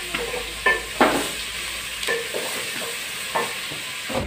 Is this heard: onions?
yes